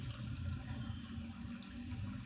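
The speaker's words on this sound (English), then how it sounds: "In this case, we are operating a water body." A water feature switched on by a smart home automation system runs with a steady, continuous rushing and splashing flow, even and unbroken at moderate level, with no talk.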